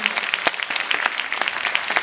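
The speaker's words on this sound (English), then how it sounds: "So just give yourselves a round of applause right now." An audience at a Women on the Move event claps together, a dense, loud burst of applause filling the room throughout.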